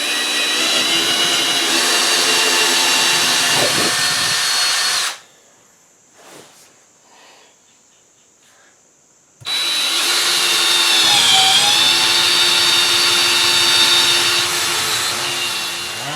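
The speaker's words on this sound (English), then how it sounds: "I'm just going to drill right here and see what happens." A power drill bores a hole through a wall, a loud, steady close-up whine for about five seconds, then a pause with faint clicks and handling before the drill runs again just as loudly.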